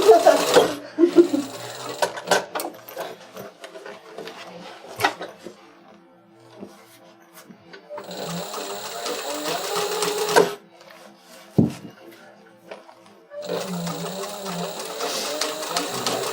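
A sewing machine stitches a Voyager backpack, running in three separate bursts of rapid mechanical whirring with pauses and small clicks between, with faint talk at the start.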